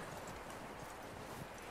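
Horse hooves clip-clopping in the video game Red Dead Redemption 2, a steady run of quiet, even footfalls under a soft, continuous background hiss.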